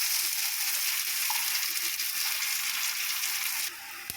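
Onions frying in oil tempered with spices for a kuzhambu, giving a constant dense sizzle close up that softens slightly near the end.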